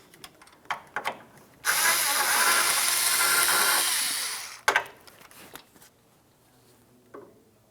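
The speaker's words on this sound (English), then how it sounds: "remove the two bolts that hold the AC condenser to the radiator" A power ratchet or drill whirs for about three seconds, removing a bolt that holds the AC condenser to the radiator on a Ford Flex. Short clicks and taps of tool handling come before and after.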